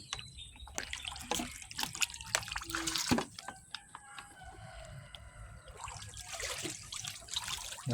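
Floodwater trickles and drips in a flooded yard where ducks and chickens are kept; a steady wet trickle runs throughout, with a rooster crowing and fowl calling in the background.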